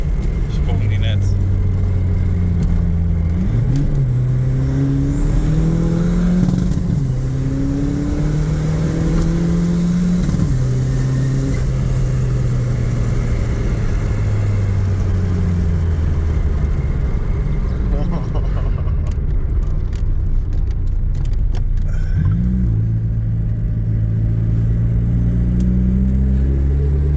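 A Volkswagen Corrado with a 20VT engine revs while driving on the street, its engine note climbing and dropping in steady pitch sweeps close by, with talk over the drone.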